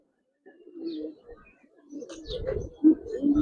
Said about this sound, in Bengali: এক জোড়া নাপ্তা কবুতর